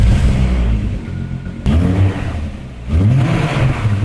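A VR6 car engine revs hard nearby in repeated surges, climbing and falling back in loud waves with a brief lull between bursts.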